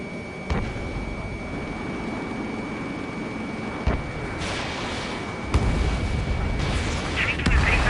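Missile hits and explosions in the PS4 video game Ace Combat 7: Skies Unknown, with sharp bangs striking at intervals over a constant roaring jet drone.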